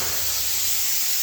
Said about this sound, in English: let's get some brake clean and wipe this entire thing down